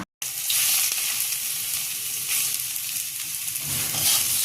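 Boiled data shak greens frying in a hot pan for a mashed vorta with kalojira, a steady close sizzle running throughout, with a brief gap at the start and occasional stirring scrapes.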